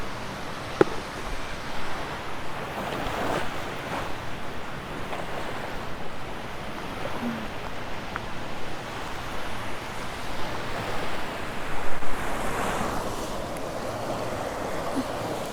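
Gentle surf rolling onto a Sanibel beach at sunrise, a steady broad wash of waves with some wind buffeting the microphone, one slightly stronger surge toward the end.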